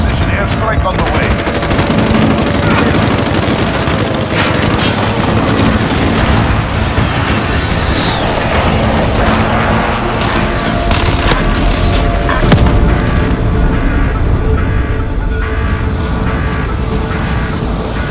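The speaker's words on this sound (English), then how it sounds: "Grenade out! Friendly precision airstrike on the way." Heavy gunfire and precision airstrike explosions in Call of Duty Modern Warfare on PS5, with KRISS Vector fire, dense automatic bursts and booming blasts, loud and continuous for the whole stretch.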